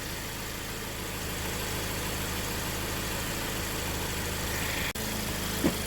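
A 2013 Honda Accord Sport engine idles with a steady, low hum and constant vibration, briefly interrupted near the end by a short clunk.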